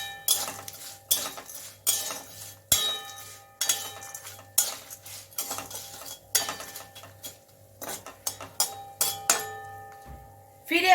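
A metal spoon clinks and scrapes repeatedly against a pot or bowl while turmeric is mixed into lemon rice ingredients, sharp taps arriving in an irregular rhythm over a steady low hum, close and fairly loud.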